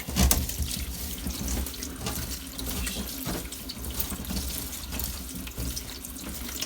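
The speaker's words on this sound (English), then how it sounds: "we're just gonna wash the broccoli" Broccoli is washed in a food strainer under a running kitchen tap, a steady close splashing rush of water with small irregular spatters, no voices over it.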